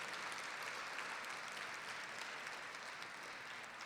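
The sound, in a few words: audience applause at nurses event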